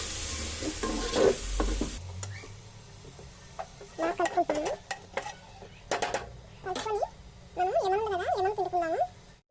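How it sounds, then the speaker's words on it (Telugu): A pan of mutton biryani masala with yogurt is stirred, with scraping and clinking of a utensil against the pan. The strokes come irregularly under a faint sizzle, and a voice speaks over parts of it. "పెరుగు కూడా వేసేసుకుంటున్నాను ఒకసారి మొత్తం కలుపుకుంటున్నాను"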